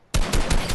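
A Fortnite sniper shot cracks out sharply and loud, followed by rapid repeated gunfire bursts in quick succession, all within under a second.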